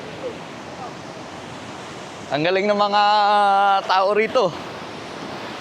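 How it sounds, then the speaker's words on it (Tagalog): Strong surf rolls and crashes at Baler beach in Aurora on a rainy day, a continuous wash of breaking waves under a short burst of someone talking. "naririnig nyo yung hampas ng alon"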